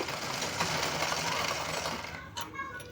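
Sewing machine stitching a cloth hip belt, running in a fast continuous mechanical chatter close up for most of the moment, then stopping near the end with a few faint clicks.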